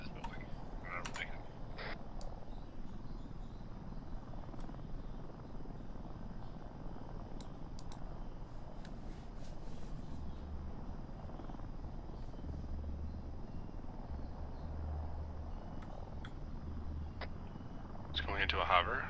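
A helicopter in an Arma 3 military game drones steadily throughout, a continuous rotor-and-engine rumble at moderate level with low thumping underneath and a brief louder swell near the end.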